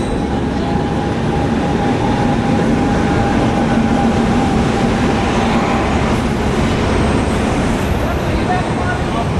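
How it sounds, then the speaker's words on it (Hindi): Vivek Express intercity passenger train at an Indian railway station, a loud continuous rumble of rolling wheels and carriages passing close by, steady throughout with no clear speech. "ये है ट्रेन इंटरसिटी, जिसको मैंने बोर्ड करना है।"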